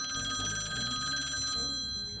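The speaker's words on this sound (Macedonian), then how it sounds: "Телефон." A telephone rings in a Macedonian comedy sketch: a steady, bright electronic ring tone holds without a break for about two seconds, fairly loud and close, with no voices over it.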